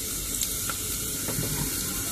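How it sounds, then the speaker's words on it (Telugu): Turmeric frying in hot oil for a potato kurma, a close, steady hissing sizzle with no speech over it. "పసుపు నూనెలోనే వేయండి మ్యాక్సిమం. వేగిద్ది."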